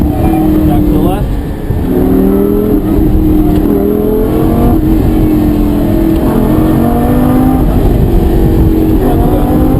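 A Lamborghini engine accelerates while being driven on a track, a loud, continuous throaty drone whose pitch climbs and dips as the throttle opens between corners, running close and steady throughout.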